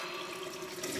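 Water hisses and runs steadily from a small valve opened to release pressure on a hot water tank's safety group, a faint continuous rush with no talking.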